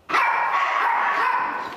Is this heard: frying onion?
no